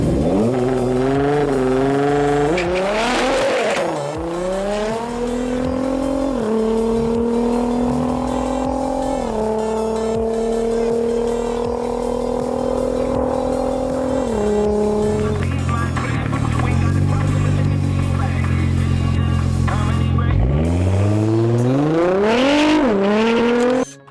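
A tuned drag car running a 75% ethanol fuel mix, rated over 520 kilowatts at the hubs, launches and accelerates hard down the strip, its loud engine climbing through several gear changes with tire squeal, ending in another burst of revving.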